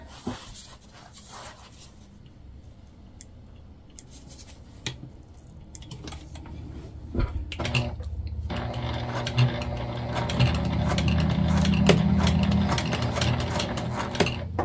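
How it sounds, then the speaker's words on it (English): Domestic sewing machine top stitching down both sides of a beginner backpack, a steady mechanical whir that grows louder and more continuous in the second half, with a few handling knocks earlier. "we're just gonna do a top stitch all the way down on both sides"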